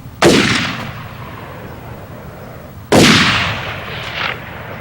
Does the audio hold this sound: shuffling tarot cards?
no